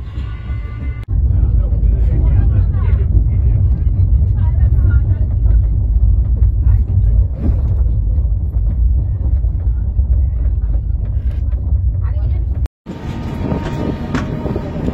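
The Mithila Express runs toward Sagauli Junction, a steady loud onboard rumble of wheels and carriage that cuts off briefly near the end before noisier sound resumes.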